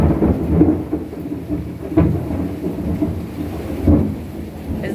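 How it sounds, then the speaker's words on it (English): Thunder rolls through a thunderstorm in Boynton Beach, Florida, as low rumbling swells that rise and fade several times under steady rain, with a brief spoken voice over it. "Now comes the thunder."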